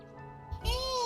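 A cat in the video game The Legend of Heroes: Trails Through Daybreak gives a single rising, high-pitched meow, close and clear, following a soft lead-in over quiet background music.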